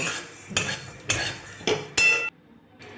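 A metal spoon clanks and scrapes in a pan while dry-roasting whole spices for a masala blend, four sharp close bursts of stirring spaced about half a second apart, then a brief near-silence.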